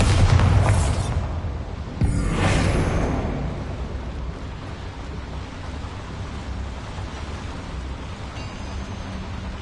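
A spell-blast explosion in a Harry Potter video game gives a loud booming burst, a second heavy blast a couple of seconds later, then a long rumbling roar that slowly fades.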